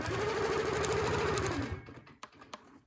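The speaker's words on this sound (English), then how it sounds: "So let's just sew that in" A sewing machine stitching a quilting seam with a template, running steadily at a rapid even rhythm for about a second and a half, then stopping, followed by quiet handling clicks.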